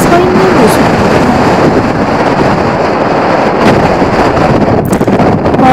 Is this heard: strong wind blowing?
yes